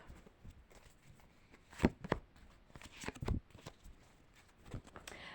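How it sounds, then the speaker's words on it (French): A deck of tarot cards being cut by hand, giving soft close shuffling and slapping card sounds in a few brief bursts over quiet room noise, with no talking. "Ok, je fais une coupe."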